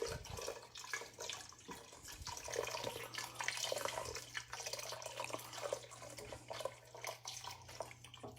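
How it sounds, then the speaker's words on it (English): Two cups of milk pour into a pot of gnocchi chicken soup and are stirred in, a soft, continuous liquid splashing and swishing over a low steady hum. "we can take our milk, 2 cups of milk, and then we're just going to take that and stir it in"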